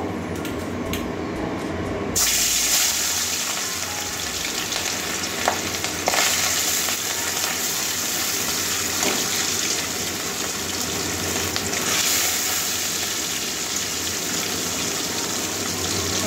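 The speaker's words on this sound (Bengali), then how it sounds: "এবারে মাছ কটা ভেজে নেব।" Rohu fish pieces frying in hot oil in a wok, a steady loud broadband sizzle that bursts up as the fish goes in and carries on with crackling pops, with no talking.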